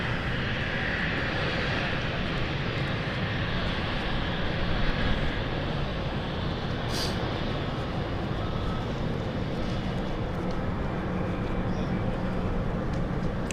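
A City Flyer airliner on the Amsterdam flight at London City Airport gives a steady, broad engine roar, loud and continuous throughout, with no talk over it.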